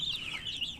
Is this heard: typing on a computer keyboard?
no